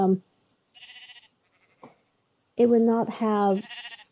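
Minecraft sheep let out a couple of loud, close, wavering bleats near the end, after a few faint game sounds and quiet gaps.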